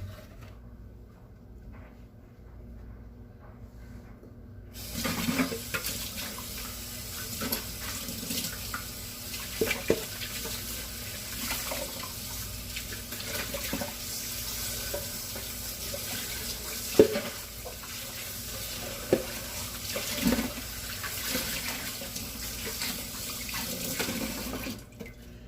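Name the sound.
rinsing out the bundt cake pan under the tap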